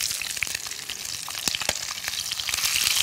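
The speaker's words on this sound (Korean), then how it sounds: "명란이 많이 튀네요" Pollock roe (myeongnan) fries in a pan, a dense continuous sizzle with sharp pops and spattering crackles, close and alone.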